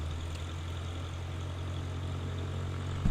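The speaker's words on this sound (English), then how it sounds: "So I'm going to start the engine now." Propeller plane engine running in a flight simulator game, a quiet steady low drone with a faint click near the end, no talking.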